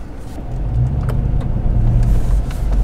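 A car fitted with a pedal commander is test-driven, giving a steady low engine hum and road rumble from inside the cabin with no talking.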